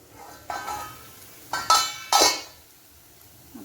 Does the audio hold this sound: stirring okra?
yes